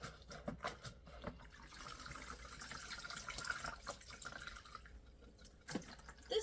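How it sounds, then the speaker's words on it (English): Fresh water trickling and dripping into the clean-water side of a two-sided cleaning bucket, a faint continuous splash close by, alone. "Fresh water fills into it every time I use it."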